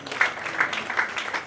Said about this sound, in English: Please, a round of applause for Harry's song.